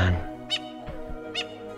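A bird squawks in a video game, two short bright harsh calls spaced about a second apart over a steady low game soundtrack, fairly close and loud.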